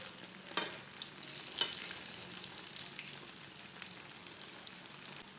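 Egg kababs fry in oil in a pan with a steady close sizzle, soft crackles rising in a few brief pops throughout.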